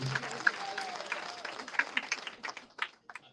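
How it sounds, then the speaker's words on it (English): Clapping from an audience at a human services career program graduation, a dense patter of many hands at moderate volume, thinning out toward the end, with some crowd murmur mixed in. "Thank you for that very generous applause"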